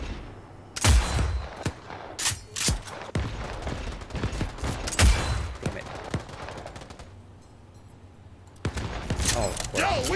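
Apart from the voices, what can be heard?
gunfire in video game Cyberpunk 2077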